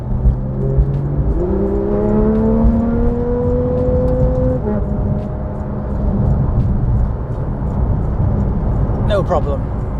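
Porsche 911 GT3 engine revving hard as it accelerates past a lorry on a Highland road, a loud rising whine climbing through the gears with one shift partway through, heard from inside the car.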